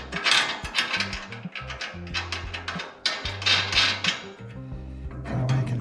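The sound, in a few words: fastening a nut and bolt on ATV attachment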